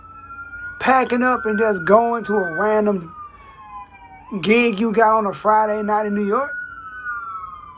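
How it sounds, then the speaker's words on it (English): A wailing siren rises and falls in the background while someone talks over it, the tone sweeping steadily throughout. "Excuse me if you can hear the sirens outside."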